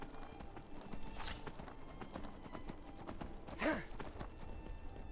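Horse hooves gallop in the video game Skyrim, a steady rapid clip-clop with a short whinny near the middle, loud and close with no talk.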